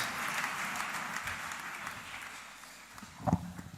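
A church congregation applauding and cheering for Jesus, a steady wash of clapping and crowd noise with a louder burst near the end.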